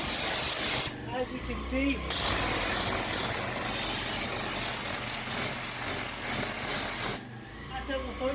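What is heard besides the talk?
power washer spraying with turbo nozzle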